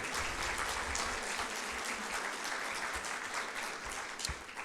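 Church congregation applauding, a sustained dense wash of many hands clapping at moderate distance, steady throughout with no speech over it.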